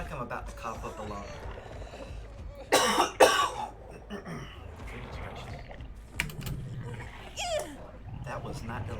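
A streamer coughs in a few harsh bursts amid steady keyboard typing and game sounds during a Dead by Daylight match, with talk elsewhere around it.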